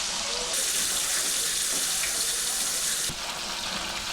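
Pieces of tilapia fish frying in hot oil for a Bengali fish curry, a steady loud hiss and crackle that swells and then eases slightly near the end.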